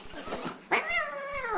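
Kobe the cat lets out a drawn-out, wavering meow that starts sharply and trails off, heard close by over faint rhythmic thumps.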